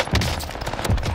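Two quick bursts of automatic ARMAGUERRA 43 gunfire in Call of Duty Vanguard Warzone, sharp and close, with a short gap between them.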